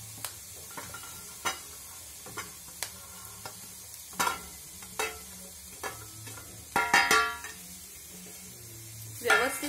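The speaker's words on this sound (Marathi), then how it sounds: "आता आपण यामध्ये मसाले घालणार आहोत।" Spices being stirred into a frying cluster fig (gular) vegetable dish in a pan: scattered spoon clinks and scrapes against the pan over a low, quiet sizzle, with a few louder clattering stirs toward the end.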